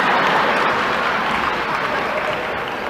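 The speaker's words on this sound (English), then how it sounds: "don't clap too loud" A crowd at a speech claps loudly and steadily, a dense wash of hands that carries evenly through the short stretch.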